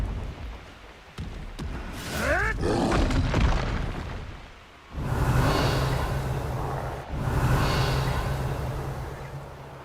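Confringo and Incendio spell blasts from Hogwarts Legacy go off as a series of loud booming bursts. A sharp whooshing sweep comes first, followed by two heavy roaring surges that fade slowly.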